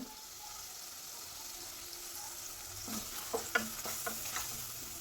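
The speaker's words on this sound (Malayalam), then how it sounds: "അതെല്ലാം ഇട്ട് കൊടുത്തൊന്ന് ഇളക്കി കൊടുക്കാം" Turmeric and chili powder being stirred in a hot pan for a Kerala-style fish curry; a quiet sizzle runs throughout, with a few sharper scraping clicks of the spoon in the second half.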